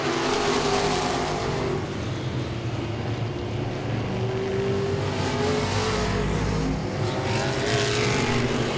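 Modified race cars roar around Langley Speedway, a loud continuous wall of engine noise with rising and falling revs as cars pass, and no voices.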